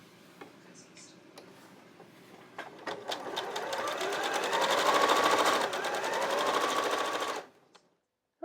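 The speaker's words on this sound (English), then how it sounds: "I'm going to sew on the line" A sewing machine stitches quilt triangles in a steady rapid chatter that speeds up, runs loud and close for several seconds, then stops abruptly after a few slow starting ticks.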